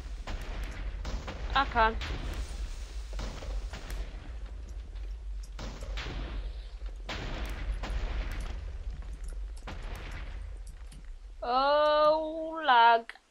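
TNT explosions in Minecraft during a TNT minigame, several separate muffled blasts spaced a second or two apart, with a short rising voice and an electronic tone near the end.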